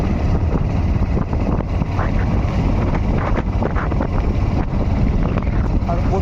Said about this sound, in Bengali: প্রচুর হাওয়া দিচ্ছে আজকে